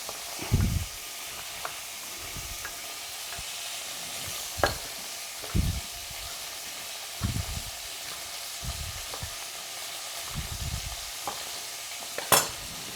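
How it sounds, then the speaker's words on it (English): Fatty pork pieces caramelize in a pot, giving a soft, low sizzle broken by repeated stirring scrapes and clunks every second or so, fairly close and otherwise quiet. "Now what you want to do, you want to caramelize the meat"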